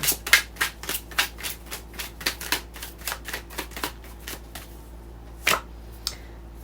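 Tarot cards shuffled by hand in a quick riffling run of crisp, papery snaps for about five seconds, then a pause and one more louder flick near the end, close and clear with no talking.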